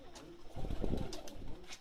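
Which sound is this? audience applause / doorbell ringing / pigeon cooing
pigeon cooing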